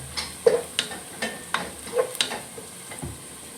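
Onions fry and brown for chicken biryani, a close sizzle broken by a regular series of stirring scrapes and light clicks against the pan.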